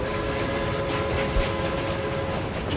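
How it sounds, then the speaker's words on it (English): Train rolling along rails in the city-building game Workers and Resources, a steady, dense rumble with a faint metallic hum, continuous and fairly loud with no pauses. "The train just came out."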